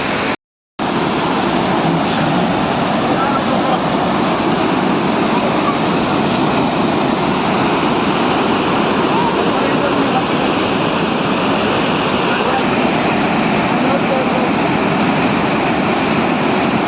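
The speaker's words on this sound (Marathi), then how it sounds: "किनवट तालुक्यामध्ये सहस्रकुंड धबधबा बघायला" Sahastrakund waterfall in Kinwat taluka roars as a steady, loud, broadband rush of falling water, unbroken after a brief cut at the start.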